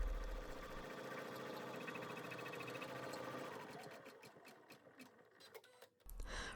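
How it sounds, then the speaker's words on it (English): An embroidery machine runs a steady, rapid stitching pass to tack down pocket fabric on a hooped tooth pillow, then slows and stops near the end. "Stitch the next step of your design, which is going to tack down your pocket fabric."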